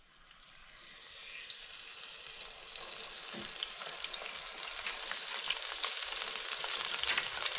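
Buttermilk-breaded chicken pieces lowered into hot oil, a bubbling sizzle that swells from quiet to a loud, dense crackle as the pieces cook.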